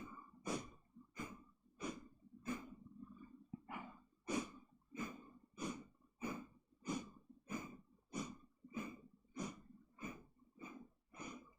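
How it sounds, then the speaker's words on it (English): A group doing chi kung breathing exercises, drawing in and pushing out long, rhythmic breaths, roughly fifteen audible inhale-exhale cycles spaced about a second apart, fairly close and steady with no talking. "by breathing, inhale."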